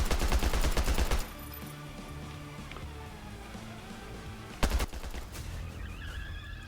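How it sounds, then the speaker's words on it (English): Gunfire in the VR shooter Hard Bullet: a dense rapid burst of shots at the start, then a quieter stretch and another sharp short burst, loud and close over a steady game background. "Did I just hear shooting then?"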